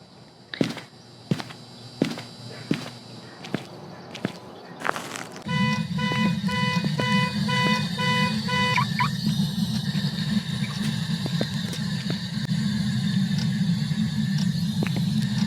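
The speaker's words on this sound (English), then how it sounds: "Oh, he set off the car alarm again." A car alarm set off by a ghost in the video game Phasmophobia. A few sharp clicks come first, then the alarm starts with a repeating pulsed tone over a steady low drone that lasts until the end.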